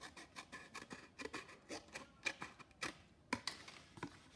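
Scissors snip around the rim of a paper plate while a paper plate cat with ears at the top is being cut out, giving a quick run of close, crisp cuts of varying strength with no talking.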